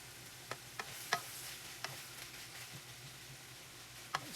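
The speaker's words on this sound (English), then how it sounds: "Stirring occasionally." Pad Kra Pao frying in a pan and being stirred: soft sizzle runs throughout, with several sharp spatula scrapes and clicks scattered irregularly, close and fairly quiet.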